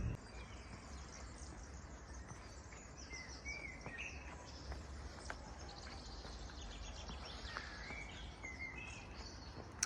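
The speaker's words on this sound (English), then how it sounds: "I'm sure you've heard the birds singing throughout the video." Birds singing outdoors amid greenery near a cemetery in Rijeka, Croatia, with faint scattered chirps and insect-like buzzing over a low, quiet background hum and no talk.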